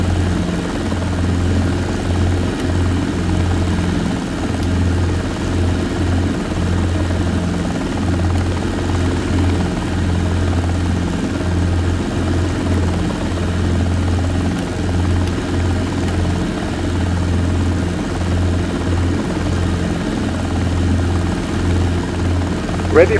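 A Robinson R22 helicopter running on the ground before takeoff, its engine and rotor giving a loud, steady, close droning throb that holds unbroken throughout.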